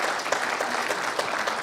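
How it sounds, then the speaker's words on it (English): Steady applause from a congregation at a church service, a dense wash of clapping hands at moderate distance lasting a short moment, with no voices over it. "So let's give a round of applause to all of those volunteers."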